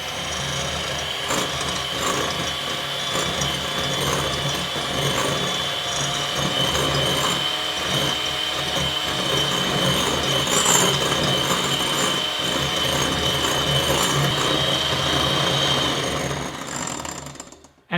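Electric mixer whipping egg whites and sugar for meringue cookies, a constant loud whirring motor drone with a rattling, grinding edge that runs without break until it cuts off at the end.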